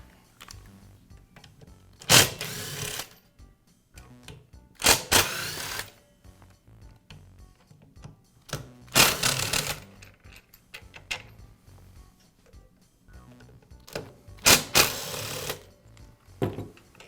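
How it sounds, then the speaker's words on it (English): Screws being removed from the motor housing of a Makita miter saw: several short bursts of whirring and rattling, likely from a power screwdriver, separated by quiet pauses with small clicks and handling noises. "Now I'll remove the 4 screws that secure the motor housing."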